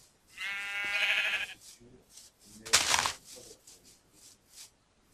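A Minecraft sheep gives a clear, wavering bleat, followed by quieter game sounds, a brief noisy burst and soft footstep-like taps.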